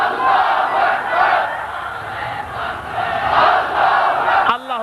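A large crowd answers a Nara-e-Takbir slogan at a religious gathering with a loud collective chant, swelling and falling in waves of massed voices that end abruptly.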